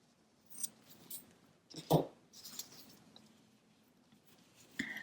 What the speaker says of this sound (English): And I can cut off these yarn tails.